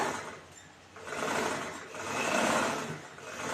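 A sewing machine stitches a blouse neckline in two swelling runs, its motor hum rising and falling between short slower pauses, fairly quiet and with no voices.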